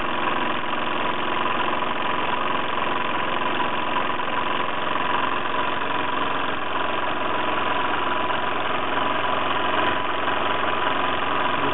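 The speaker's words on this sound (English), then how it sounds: "tinkling sound in the background. That's the chimney moving around." A Bowman M140 engine running steadily with a dense, even mechanical drone and broadband rattle, loud and continuous, while the chimney tinkles faintly in the background; no voices.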